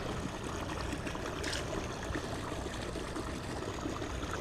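Water of Cajon Creek flows steadily beside a sluicing spot, a constant broadband rush and trickle at close range with no voices.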